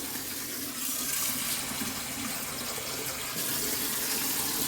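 Water pouring steadily into a saucepan of rinsed lentils for soup, a continuous rushing splash at moderate level from start to finish.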